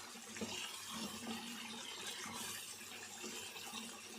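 Water is poured into a cooking pan of chickpea curry, a steady splashing gush that continues evenly for a few seconds, fairly soft and close.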